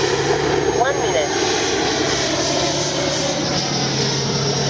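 An FMS Avanti S 90mm RC jet plane roars overhead with a steady, loud ducted-fan whine and a brief pitch sweep as it passes, while someone talks.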